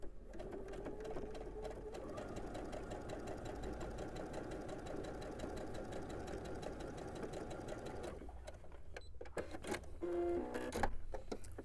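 A sewing machine runs steadily for about eight seconds while stitching a quilt block seam under the presser foot, a close, continuous motor hum, then stops, followed by brief handling clicks and a short tone.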